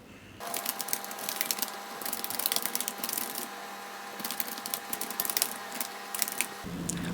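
Rapid typing on a computer keyboard while entering a payment voucher in Tally ERP9 accounting software, dense bursts of clicky keystrokes with short pauses, close and clear, with no talking.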